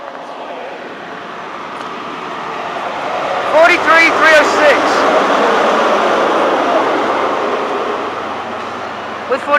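A train hauled by power cars 43306 and 43320 passes through Stevenage station, building to a broad, loud roar with a few horn-like tonal blasts mid-pass, then gradually fading.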